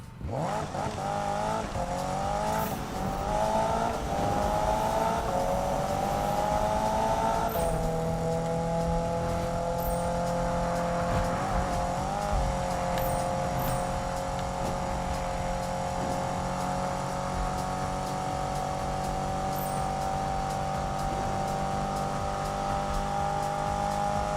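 A Subaru BRZ / Scion FR-S / Toyota GT86 engine in the game Need for Speed revs and climbs through gears, then holds a steady high drone, loud and continuous with a synthetic, game-like tone.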